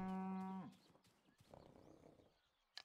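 A cow in the video game Rustler lets out one loud, drawn-out moo. Quieter game background noise and scattered faint clatter follow it.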